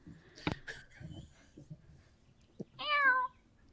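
A cat lets out a single clear, rising-and-falling meow near the end, after a few scattered soft bumps and clicks in an otherwise quiet room.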